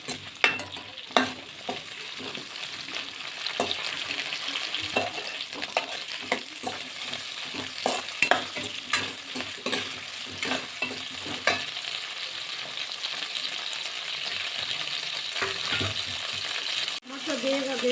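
Tomatoes and onions fry in a pan with salt, a steady close sizzle punctuated by irregular scraping and clinking stirs of a utensil against the pan throughout.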